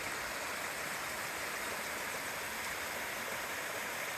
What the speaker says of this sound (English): That's a hot springs waterfall.